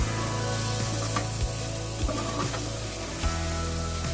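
Beef liver fried in masala spices in a pan gives a steady low sizzle under a constant hum, with a few soft clicks from stirring and no voices.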